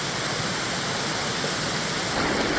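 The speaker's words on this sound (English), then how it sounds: "we are rewarded with the second Abbott Run waterfall" The second Abbott Run waterfall cascading through a boulder-filled ravine, a loud, steady broadband rush of falling water heard close and alone, with no break or voices.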